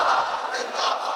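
A large crowd at a Ramadan religious gathering shouts a slogan back in unison, a loud sustained roar of many voices filling the brief moment without pause.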